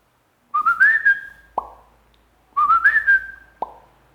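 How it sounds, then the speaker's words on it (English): A phone notification plays twice, each time a rising whistle gliding upward and holding, then a sharp pop, repeated about two seconds apart, close and clear with no talking. "the next time your phone whistles and pops"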